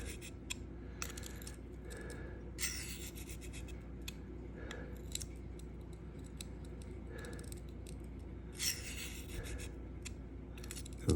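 An S110V steel knife edge drawn across a Sharpal field sharpener, repeated scraping strokes at an even pace, quiet and close, with a few light clicks and no talking.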